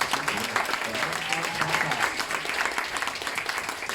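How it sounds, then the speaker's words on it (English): Audience giving a big round of applause for speaker Matthew Burke at a live event, dense sustained clapping from a crowded room lasting throughout. "Big round of applause for Mr. Matthew."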